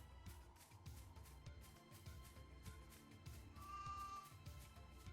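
A little sheep bleating in the video game Final Fantasy XIII-2, repeated short bleats over a layered game soundtrack, with a brief bright tone near the end.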